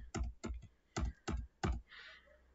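Keys clacking on a computer keyboard while entering figures into an Excel spreadsheet: five distinct bursts of quick keystrokes at a close, moderate level, then a faint short hiss.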